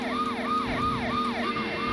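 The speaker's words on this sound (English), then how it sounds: "Their sirens are getting super annoying" Police sirens in the video game Driver 2 wail in rapid rising-and-falling sweeps, repeating steadily and continuously at moderate volume with no talking.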